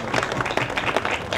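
An audience applauds a group at a Malay culture and music association event, with dense, lively clapping throughout and a faint murmur of voices beneath.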